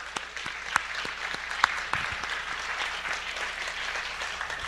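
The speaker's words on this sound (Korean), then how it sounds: "우리 함께 원로 감독님과 감독님께도 박수를 해드립니다." A church congregation applauds for the senior bishop and the bishop, a moderate, sustained spatter of clapping with a few sharper individual claps standing out.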